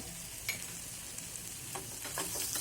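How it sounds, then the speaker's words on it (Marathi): Turmeric sizzles in hot oil in a pan with sautéed capsicum, a soft, steady frying hiss with a few light stirring clicks, close but quiet. "हळद थोडीशी आपण तेलामध्ये भाजून घेऊया"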